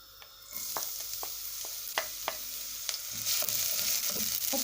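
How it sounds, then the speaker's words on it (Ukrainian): Food, likely for a macaroni and mince casserole, sizzles softly in a pan over low heat while a utensil scrapes and taps against it several times, the hiss growing a little stronger toward the end. "На початку малий вогонь даю, обсмажую, помішуючи"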